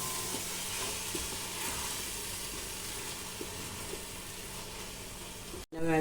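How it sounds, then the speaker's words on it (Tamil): Masala paste sautéing in a pan with salt and yogurt, a steady soft sizzle with faint stirring taps throughout, cut off abruptly near the end. "கொஞ்சமாக சால்ட் போட்டுட்டு வதக்கிடலாம். கொஞ்சம் தயிரையும் ஊற்றி வதக்கிடலாம்."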